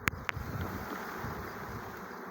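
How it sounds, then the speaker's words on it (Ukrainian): A honeybee swarm hums faintly and steadily in the open while it is moved from a plum tree. Two sharp clicks come at the start, with light wind noise underneath. "Задача пересадити той рій сюди."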